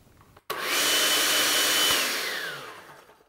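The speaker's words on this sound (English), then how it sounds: "Stick them in your blender." After a brief pause, a blender motor roars to life pureeing cooked peas and runs loud and steady, then slowly winds down.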